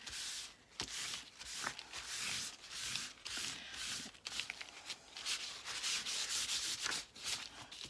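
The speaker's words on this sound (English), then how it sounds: "just rub a clean piece over it a little bit" A clean soft cloth rubs back and forth over freshly made faux leather, giving repeated scratchy, brushing strokes in bursts with short pauses between them, close and steady, with no talking.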